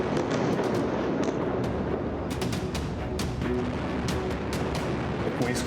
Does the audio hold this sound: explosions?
yes